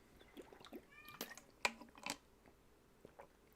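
A cat meows faintly a few times against quiet indoor background noise, with short soft clicks and mouth sounds between the calls.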